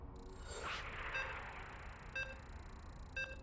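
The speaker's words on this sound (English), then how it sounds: "And you can hear the beeps." In a StarCraft II esports match, three short, high electronic beeps sound about one second apart after a brief whoosh. They are clear but fairly quiet over a low background hiss.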